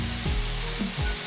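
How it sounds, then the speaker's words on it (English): Swordfish sears in a hot pan, a short burst of loud, dense sizzling and frying hiss heard close, with a low hum beneath and no talking. "You hear the sound? Let's sear them a little bit."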